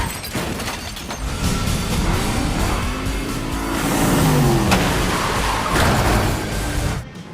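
A car chase from John Wick Chapter 2, with engines roaring and revving, tires squealing in a long rising-and-falling whine, and cars rushing past loudly and close.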